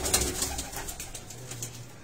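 Breeder pigeons in a loft, soft low cooing murmurs repeating over a faint background hiss, fairly close.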